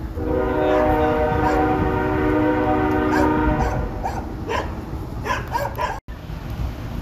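A train rumbles past with a long, steady horn blast, while dogs bark intermittently over the rolling clatter.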